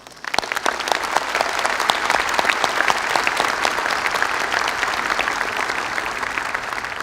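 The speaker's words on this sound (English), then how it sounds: "Let's give them another big round of applause." A large audience at a commencement ceremony claps steadily, a dense, loud wash of applause that builds quickly and holds for several seconds with no speech over it.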